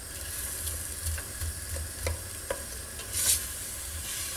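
Frik barley soup ingredients, meat and broth, sizzle in a hot pot while being stirred, a steady close frying hiss with soft repeated scraping strokes and no talk.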